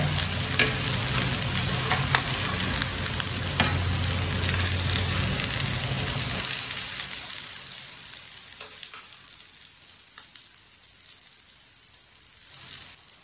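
Leftover roti breakfast frying and sizzling in a pan, a dense, steady sizzle with stirring that runs loud through the first half and then drops to a quieter, thinner crackle once the heat eases.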